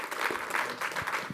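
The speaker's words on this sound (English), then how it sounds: "Round of applause for our panel." An audience at an MTN Group Capital Markets Day claps for a panel in a short, dense burst of steady applause.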